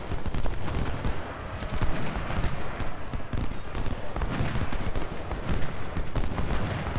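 Massed musket volleys from Civil War troops in the strategy game Ultimate General: Civil War form a dense, continuous crackle and rumble of distant fire with no pauses.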